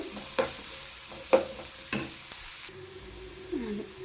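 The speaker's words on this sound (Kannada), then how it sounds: "ಈರುಳ್ಳಿ ಗೋಲ್ಡನ್ ಕಲರ್ ಬರೋವರೆಗೂ ಚೆನ್ನಾಗಿ ಫ್ರೈ ಮಾಡ್ಕೋಬೇಕು." Onions fry in a pan while a spoon stirs them, with a few sharp scraping knocks over a faint sizzle in a quiet kitchen, building a spicy egg and drumstick leaf side dish.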